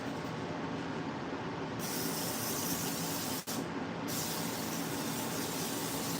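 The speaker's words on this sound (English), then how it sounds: "Let's get some spray in there." Cooking spray hissed into a waffle maker, a steady close hiss filling the clip with one tiny break midway, no talking.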